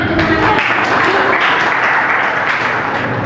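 Students in a classroom clap together in a steady, dense round of applause that stays fairly loud and even throughout, with a brief voice near the start.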